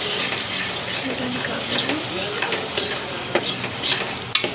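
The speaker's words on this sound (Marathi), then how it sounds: "आता ही टाकायची टमाट्याची. चांगलं तेलामध्ये परतायचं." A cashew, tomato and coriander paste is stirred and fried in oil, a soft continuous sizzle broken by frequent spoon scrapes and light clinks against the pan.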